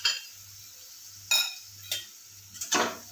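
A spoon stirs pasta masala into macaroni in a pan, making a few separate metallic clinks and scrapes against the pan over a low, steady background hum.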